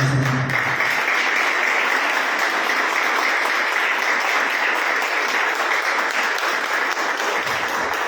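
A church congregation claps together loudly and steadily to welcome the pastor, a thick, sustained wash of applause following a brief voice at the very start.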